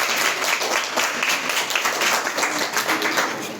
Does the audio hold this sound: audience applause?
yes